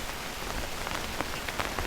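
Steady soft rain patters on an umbrella overhead on a town pavement, an even close hiss with faint scattered drips and no voices.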